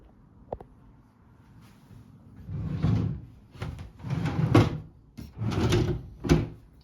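Wooden desk drawers slide open and shut several times in close, loud bursts, each scrape ending in a knock. A few softer taps come before them in an otherwise quiet room.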